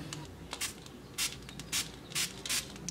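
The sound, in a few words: spray bottle misting plant leaves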